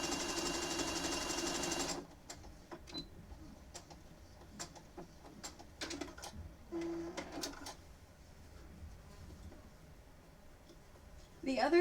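A sewing machine stitches a Pokémon appliqué quilt, loud and steady for the first two seconds, then stops; scattered clicks, handling noises and brief bursts follow, with a short run of machine noise near the end.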